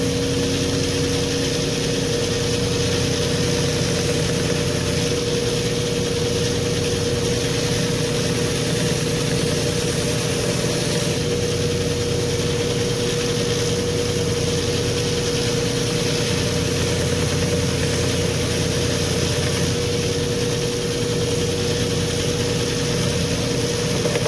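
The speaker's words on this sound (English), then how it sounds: "1x30 leather strop on my kind of half-ass homemade treadmill motor driven 1x30 sander" Homemade 1x30 belt sander driven by a salvaged treadmill motor, fitted with a leather strop belt for honing knives, running steadily with a constant motor hum and faint rhythmic vibration, close and unbroken for the whole stretch with no talk.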